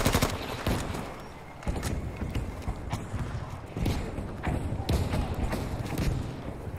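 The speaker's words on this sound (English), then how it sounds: "Artillery barrage?" Artillery barrage in a Battlefield Breakthrough match: dense, continuous rumbling blasts and thuds pile up over the whole stretch, loud and close, with several sharper surges of impacts and no break in the bombardment.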